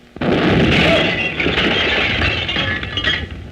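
Field artillery fires in a 1931 film, a sudden loud blast that booms and then rumbles and fades slowly over a few seconds, with no talking.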